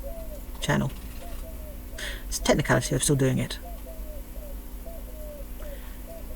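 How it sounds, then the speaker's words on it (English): A wood pigeon coos on a house roof near a chimney, giving a steady series of soft repeated hooting calls in the background while a person talks over part of it. "it's a wood pigeon, and it roosts on my roof,"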